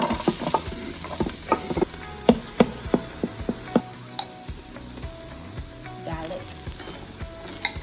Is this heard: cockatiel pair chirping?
no